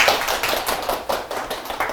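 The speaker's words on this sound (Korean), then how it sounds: "예, 박수 한번 치면서 시작할까요?" A small audience of about ten young adults claps to open a lecture on starting a business, a light, fairly sparse patter of hands heard close by for two seconds with no talk.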